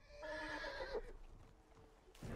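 A horse in the video game Red Dead Redemption 2 gives a loud, drawn-out whinny, followed by a few soft hoof clops and faint ambient noise, with no voices.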